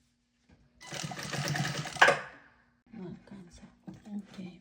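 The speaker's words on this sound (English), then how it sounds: "Right now she's gonna put the top of it on, and then kind of sew it to the top." A sewing machine stitches the top onto a barrel golf headcover in one steady whirring burst of about a second and a half, ending in a brief clack, followed by a person speaking nearby.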